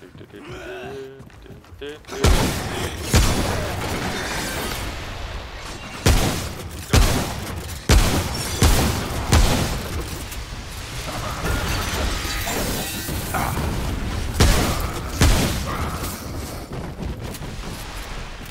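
Heavy gunfire and explosions in the Remnant: From the Ashes shooter, loud booming blasts recurring irregularly through a dense wash of combat noise.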